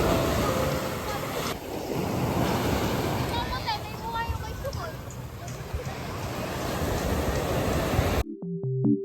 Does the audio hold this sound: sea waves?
yes